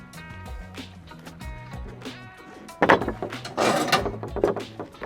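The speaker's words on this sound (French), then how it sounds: "J'attache bien ma poignée et j'accompagne ma porte pour aller la fixer." A truck's rear cargo door swung open and hooked in place: a series of metallic clanks and rattles building to louder bangs near the end, heard over a soft musical background.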